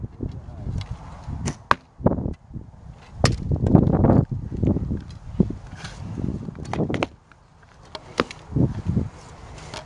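Several sharp archery bow shots and arrow thwacks ring out at an outdoor range, spaced irregularly among rustling and handling noise, fairly close and loud.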